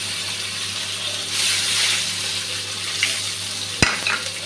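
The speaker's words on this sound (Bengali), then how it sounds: "কালো জিরেটা দিয়ে দিচ্ছি" Nigella seeds hitting hot oil along with green chillies, a steady sizzle that swells briefly, followed by a sharp clack of a utensil against the pan, close and with no talking.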